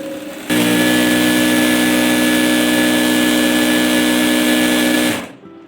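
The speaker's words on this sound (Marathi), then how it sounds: "खाली जो पाटा दाखवलेला आहे यावरती प्रेशर दिला की इथं बॉबिन अशी भरली जाते" A sewing machine winds thread onto its bobbin with a loud, steady motor whir that starts abruptly, holds for several seconds, then spins down and stops.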